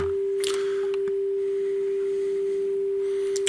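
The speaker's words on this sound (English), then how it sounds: "So, test tones are coming." A cassette deck plays back a steady, unwavering test tone on a Nagaoka CT90 tape, with a few faint clicks and small mechanical noises near the start and end.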